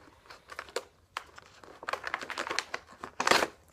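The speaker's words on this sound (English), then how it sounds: "You're going to want to open your Christmas cards." A paper Christmas card envelope is torn open and handled, producing close crinkling and ripping that builds to a louder tearing burst near the end, with no voices.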